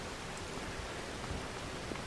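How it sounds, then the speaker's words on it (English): Heavy rain in the video game Farming Simulator 25, a steady, even wash of broadband hiss, fairly faint and unbroken, with no voices. "That is a lot of rain coming down."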